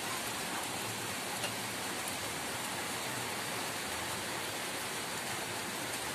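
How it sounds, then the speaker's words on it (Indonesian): Light rain falls steadily over a rural Central Javanese village hamlet, a soft continuous hiss of drops with no voices, even and unbroken throughout. "Mudah-mudahan ini hujannya nggak deras"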